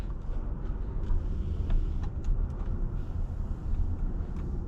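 A 2024 Hyundai Santa Fe SEL rolls along a wet, rainy road, a steady low rumble of engine and tire noise heard from inside the cabin, with faint clicks and no talking.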